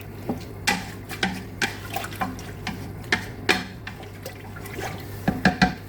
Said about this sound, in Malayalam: കുറച്ചും കൂടി വെള്ളം ഒഴിച്ച് കൊടുക്കേണ്ടി വരും ഇതിലോട്ട്.